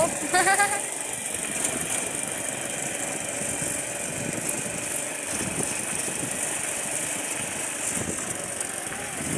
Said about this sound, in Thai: กำลังขี่รถกลับบ้านพี่น้องจ้า